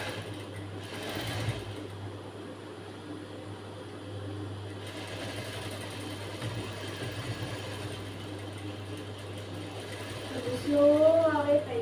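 Sewing machine stitching the back of a blouse, running slowly with a steady low mechanical hum throughout, while someone talks over it.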